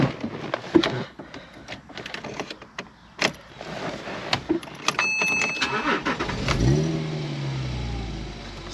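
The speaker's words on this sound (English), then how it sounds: "I'm going to start the car up so you can hear it." Porsche Boxster S 987.2 with manual gearbox starting up, a few clicks and mechanical noises first, then the starter catches and the engine fires into a loud rising rev that settles into a steady idle.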